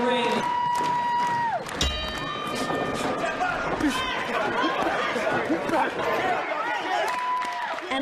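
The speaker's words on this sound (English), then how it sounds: "An electric crowd watching each boxing fight with anticipation." A crowd at a boxing match, with dense chatter and cheering swelling throughout, and a loud announcer-like voice with a sustained tone heard at the start and again near the end.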